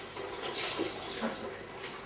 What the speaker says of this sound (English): We put water in the can to get all the tomato out of the bottom.